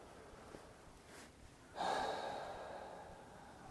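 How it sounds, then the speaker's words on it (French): One deep breath during a guided meditation, a faint quiet pause followed by a long, close airy exhale that slowly fades. "On va commencer par poser quelques respirations profondes."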